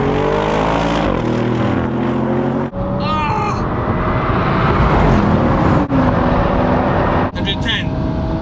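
An Audi RS5 and RS7 accelerate hard in a flying-mile drag race, a loud continuous engine roar climbing in pitch through repeated gear shifts with short dips between them.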